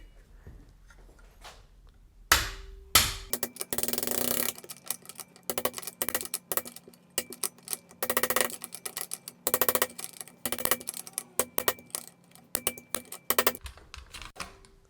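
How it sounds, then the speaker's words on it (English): Sharp metallic hammer strikes ring out in a rapid, irregular series, close and loud, after a quiet start, as a piece of another hammer drives out a part of an AKM PT-5 folding stock. "I think I will use a piece of another hammer to hammer it out"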